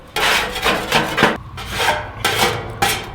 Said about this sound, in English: Just take your putty knife, scrape everything right down that hole.